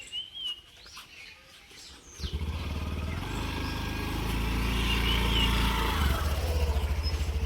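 An Activa scooter's engine starts up after a few faint bird chirps, then runs as a steady, close, droning idle that grows slightly louder and rougher toward the end.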